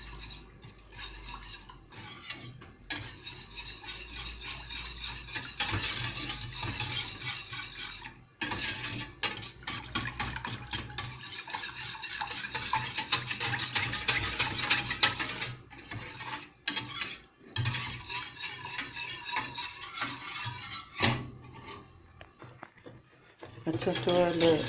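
Cream filling for a strawberry tart is mixed in a bowl, giving a long run of busy, rhythmic scraping and clinking from a utensil, with brief pauses and a voice talking over parts of it.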